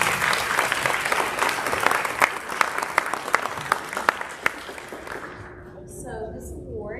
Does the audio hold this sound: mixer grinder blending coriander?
no